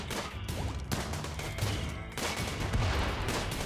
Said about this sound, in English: You guys are normally better at shooting.